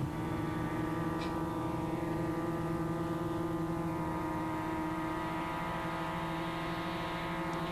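A model aircraft taking off on its first test flight, its motor giving a continuous buzzing drone with steady pitch and even loudness throughout.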